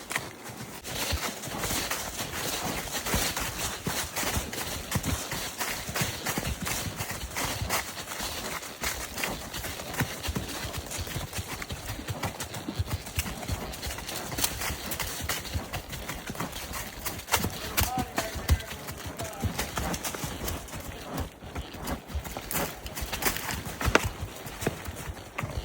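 Hooves clip-clop in a steady, continuous rhythm as horses walk a rocky trail ride, a busy clatter of hoof strikes at moderate volume with no break and no talk.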